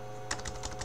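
Quick keystrokes on a computer keyboard, a short burst of about half a dozen soft clicks at close range, each tap distinct against a quiet room hum.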